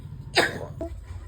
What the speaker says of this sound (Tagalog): Hindi na maganda yan na isang buwan na yung ubo mo.